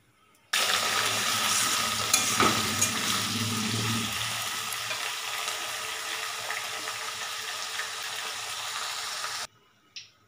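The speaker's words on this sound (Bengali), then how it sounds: "তেল ভালো করে গরম হয়ে গেছে। তো আমি আলুটা আগে ভেজে নেব।" Potatoes frying in hot oil in a wok give a steady, broadband sizzle that starts abruptly, holds at an even level for about nine seconds, then cuts off.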